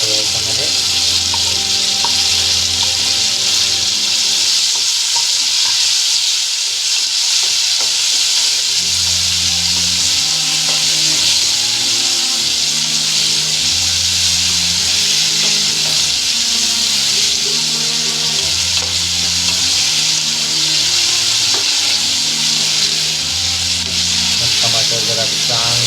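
Chopped tomatoes hiss and sizzle loudly in hot oil in a home kitchen pan, a steady close frying roar with scraping stirs, while a low voice talks faintly underneath.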